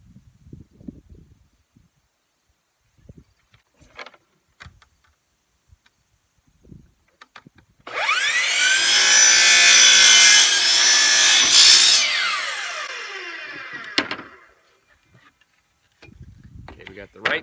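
A power saw cuts through wooden door trim in a single loud, close burst of about six seconds, framed by quiet scattered taps and clunks of handling before and after.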